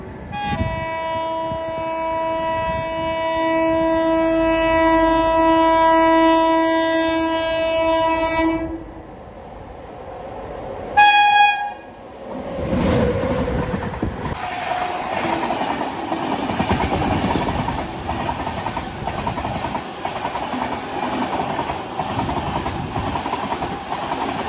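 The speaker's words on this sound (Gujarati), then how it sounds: "તો ચાલો જોઈએ કઈ ટ્રેન આવી રહી છે" Train passing through a railway station in Gujarat, opening with a long, loud horn blast and a brief second toot, then a steady rumbling clickety-clack of wagons rolling close by.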